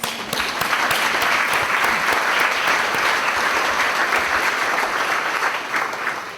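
Crowd at a community entertainment event applauds local barbecue sponsors, a loud, dense, continuous wash of clapping from many hands that holds steady for over six seconds before easing slightly.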